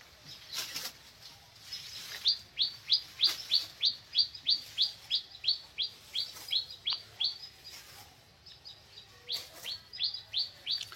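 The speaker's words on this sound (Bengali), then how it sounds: "ভাইদের এখানে পাখি আছে, ভালো পাখি ডাকছে।" Outdoor birds at a cattle market chirp in a long, steady run of short, bright repeated calls, fairly close and clear over a faint low background hum, with a few sharper notes at the start.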